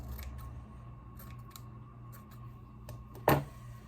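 Scissors trim frayed paper edges on a junk-journal paper dress, giving one sharp snip near the end against a quiet room.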